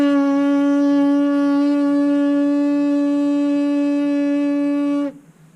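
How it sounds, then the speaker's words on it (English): A trombonist's lips buzz in an embouchure exercise, making a steady, loud, reedy pitched drone that holds for about five seconds before stopping abruptly, with no talking. "You can hear how fast my lips are buzzing together."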